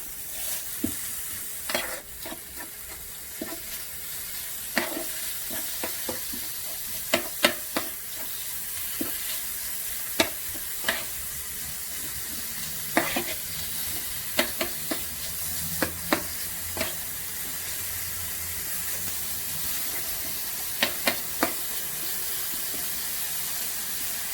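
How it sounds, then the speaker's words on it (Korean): Meat stir-fries in a pan for a Korean kimchi rice ball dish, a steady hiss of sizzling oil broken by frequent sharp clicks and scrapes from a spatula tossing the pieces. "그다음에 고기를 볶고"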